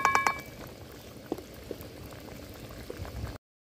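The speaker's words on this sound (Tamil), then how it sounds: "குழம்பு வந்து நல்லா கொதிச்சு ரெடி ஆயிடுச்சுங்க" Garlic kulambu bubbling in a pot, with soft, irregular blips and pops of thick liquid over a low simmer, opening with a few brief clinks and then cutting off abruptly near the end.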